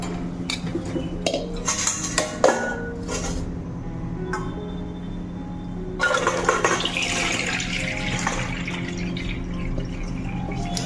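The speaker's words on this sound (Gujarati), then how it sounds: "હવે આપણે આને નિતારી લઈએ આનું બધું પાણી કાઢી નાખવાનું છે" Soaked chickpeas and fenugreek seeds being drained for pickle, with clattering of a metal container and utensils followed by a steady pour and rush of water.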